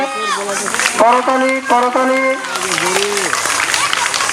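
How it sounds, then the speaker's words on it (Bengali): A group of children clap their hands rapidly together during a playground game, the clatter mixed with loud, sing-song children's voices calling out over it. "হাততালি হবে"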